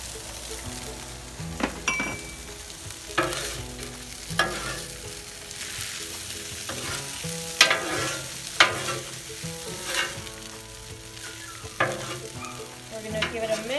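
Kung Pao chicken sizzles steadily on an outdoor griddle while a spatula scrapes and stirs through it in repeated strokes, with occasional metallic clinks over the constant frying hiss.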